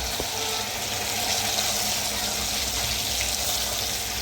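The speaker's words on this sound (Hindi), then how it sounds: "तो आप देख सकते हैं अरबी बन रही है, फ्राई हो रही है" Taro root (arbi) frying in a home kitchen pan, a steady broadband sizzle and crackle running without a break at moderate loudness, with no talking over it.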